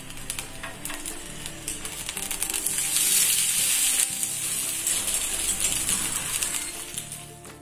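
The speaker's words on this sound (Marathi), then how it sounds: "या रोटी रेपला दोन्ही बाजूंनी व्यवस्थित भाजून घ्यायचं आहे" A roti wrap roasts in butter on a hot pan, giving a continuous close sizzle with light crackles that swells slightly midway, and no voices are heard.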